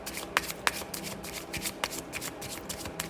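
Tarot cards being shuffled by hand, a continuous papery riffling with sharp flicks, close and steady.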